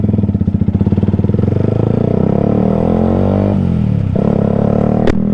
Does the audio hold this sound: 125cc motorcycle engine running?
yes